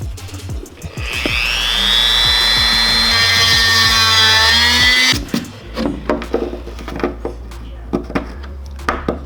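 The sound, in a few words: Dremel rotary tool squaring out S2000 splitter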